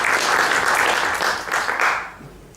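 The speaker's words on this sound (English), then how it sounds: "So please a big applause for Wisselink." Audience applause at a Bitcoin conference in Amsterdam greeting a speaker, a dense steady wash of many hands clapping that fades over the last half second.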